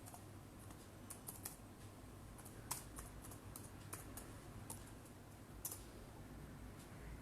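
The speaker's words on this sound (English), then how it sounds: "I'm going to type here and search for it" Steady typing on a computer keyboard, light quick key clicks with occasional louder taps, close and continuous with no talking.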